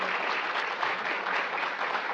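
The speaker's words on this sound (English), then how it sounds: "And if we can give another round of applause to our panelists here." Audience applause for panelists at a Pacific Islander health gathering, a steady, even wash of many hands clapping throughout, moderately loud and without talking.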